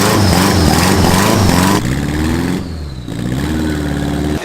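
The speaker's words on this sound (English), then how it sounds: "Do you hear those turbos?" A turbocharged Mazda engine with four turbos runs loud and close, roaring and revving with a steady drone and a brief dip in the middle.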